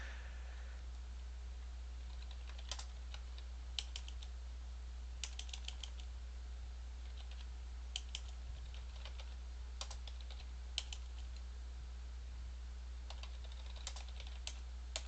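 Computer keyboard typing while playing the adventure game Space Quest: The Lost Chapter, short bursts of crisp key clicks separated by pauses, quiet and close over a faint low hum.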